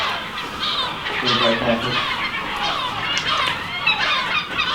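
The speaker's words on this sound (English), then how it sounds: "you can see there are loads of seagulls around" Loads of seagulls call around abandoned islands in Scotland, a dense overlapping chorus of harsh cries near and far, with a person speaking briefly over them.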